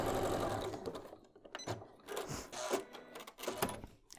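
A sewing machine runs a seam on a bear paw quilt block, stitching in several bursts that stop and restart, close and fairly loud with no talking.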